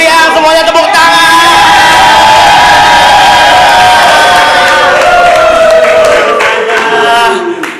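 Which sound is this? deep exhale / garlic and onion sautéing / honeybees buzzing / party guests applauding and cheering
party guests applauding and cheering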